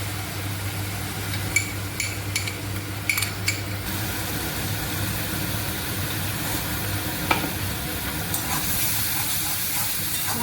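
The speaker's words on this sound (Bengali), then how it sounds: "মশলাটা আমি ভালো মতো কষিয়ে নিচ্ছি।" A wet paste of cumin, coriander and Kashmiri chilli sautés in a pan for a Bengali chana dal dhoka curry, a steady bubbling sizzle close by with a few metal utensil clinks early on over a low hum.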